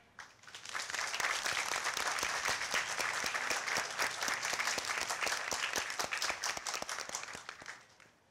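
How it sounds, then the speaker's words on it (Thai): Steady applause from a large audience at a pharmacy graduation ceremony, swelling quickly, holding for several seconds, then fading out. "ขอให้ทุกท่านในที่นี้เป็นสักขีพยานด้วยเสียงปรบมือต่อบัณฑิตมหาบัณฑิตและดุษฎีบัณฑิต"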